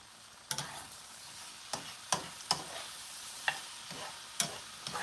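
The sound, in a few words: onions and celery cooking in a pan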